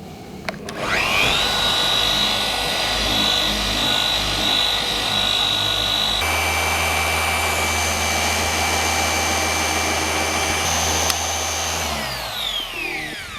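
A Rupes Bigfoot 15 Mark V random-orbital polisher spins a yellow pad with polish on black metallic paint. It makes a loud, steady high whine over a low hum, shifts pitch partway through as it settles under load, then spins down near the end.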